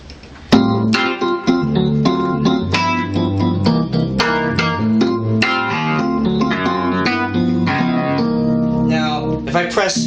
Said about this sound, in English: you have the vintage EP,